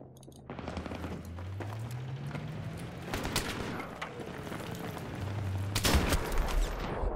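Rapid gunfire and bursts of automatic weapons fill a Battlefield 3 battle, with sharp shots cracking over a constant rumble of engine and combat noise, loud and continuous throughout.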